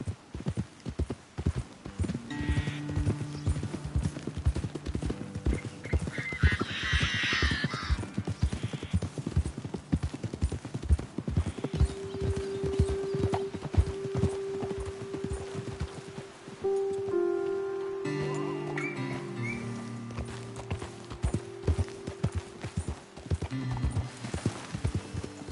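Horses' hooves clip-clop steadily in the video game Red Dead Redemption 2. The fairly close, rhythmic steps run under rain, with occasional other game sounds layered over them.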